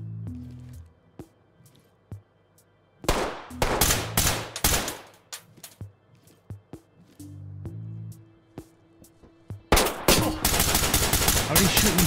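Gunfire in the tactical shooter Ready or Not on a modded map, with loud dense bursts of automatic shots separated by quieter stretches of scattered single reports and game sounds.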